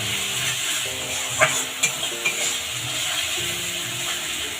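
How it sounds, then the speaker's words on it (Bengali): Spice masala stir-fried with salt and turmeric in a pan for Bengali egg curry, a continuous close sizzle broken by a few sharp scrapes and taps of the spatula, with no voice. "মশলাটা দিয়ে 2-3 মিনিট কষিয়ে দেবো।"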